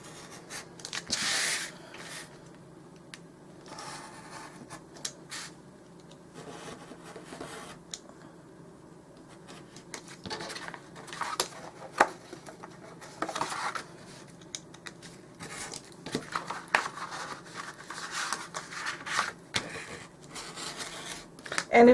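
Scissors snip through small glued paper or card pieces for a dollhouse miniature refrigerator, quiet intermittent cuts and rustles spread irregularly through a soft, fairly still room.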